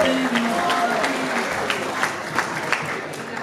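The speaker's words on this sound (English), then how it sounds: "let's get a big old round of applause" Wedding reception guests break into a round of clapping, a dense patter of hand claps with a few sharper claps poking through, steady and fairly close, with a voice or music running underneath.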